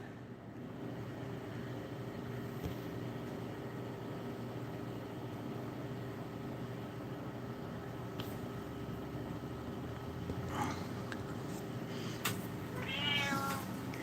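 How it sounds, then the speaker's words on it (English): A 17-and-a-half-year-old cat gives a couple of short meows near the end over a steady background hum, moderately close and not loud. "My cat just meowed."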